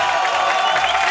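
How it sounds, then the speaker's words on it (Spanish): A crowd claps and cheers for Alberto's birthday, a dense, loud and continuous burst of applause lasting about a second. "Véngale los aplausos para Albertito"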